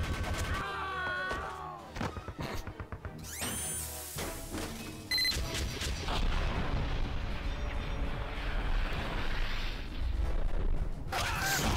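Team Fortress 2 Heavy gunfire rattles in bursts, with sharp shots and a dense roar of loud game action, while people react and talk excitedly over it.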